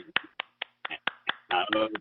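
A short run of sharp, evenly spaced hand claps or snaps performed as a podcast applause effect, about six single hits followed by a quick cluster, close and dry with silence between hits.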